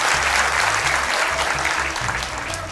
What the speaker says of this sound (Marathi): एकदा जोरात टाळ्या वाजूया किरणदादांसाठी